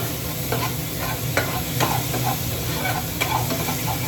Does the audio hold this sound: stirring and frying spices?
yes